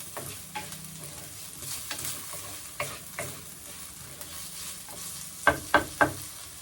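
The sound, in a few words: frying tomatoes and vegetables for curry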